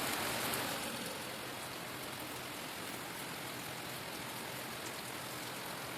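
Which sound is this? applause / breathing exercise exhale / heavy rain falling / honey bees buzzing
heavy rain falling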